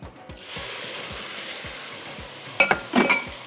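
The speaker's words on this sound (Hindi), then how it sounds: "बस अब इस मसाले को मैंने अच्छी से भुनाई करनी है" Ground spice masala of red chilli powder, ground coriander, ground onion, ginger and garlic roasts in a pan, a steady close sizzle with regular rhythmic scrapes of stirring, then a few louder clanks of utensil against pan.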